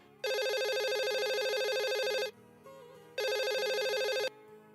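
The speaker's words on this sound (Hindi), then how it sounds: "अब्बू आपके लिए मोहम्मद अली साहब का फोन है" A telephone rings indoors in a household drama scene, two long bursts of a bright electronic ring separated by a short pause, clear and alone.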